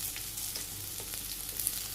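Leafy greens sizzling in a pan with onions, a steady bright frying hiss with faint crackles throughout, close and continuous.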